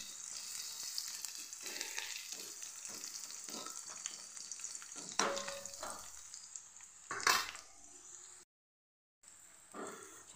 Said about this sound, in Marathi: टाकून घेते मी लसूण जिऱ्याची पेस्ट. छान गोल्डन कलर येईपर्यंत त्याला छान असं परतून घेऊ लसणाला.